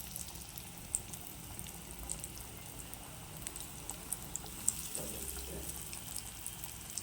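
Vegetable chops sizzle in hot oil in a pan over a lowered gas flame, a faint, steady bubbling fry with occasional small pops.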